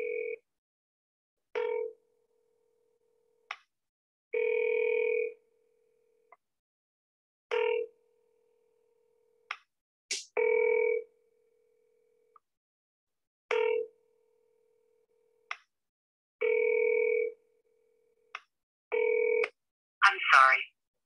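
Telephone call being dialed for a business line: a series of separate dial tones, each a steady two-note beep with short gaps, is followed by a ringback burst at the end. The sound is close and clear, and no one speaks.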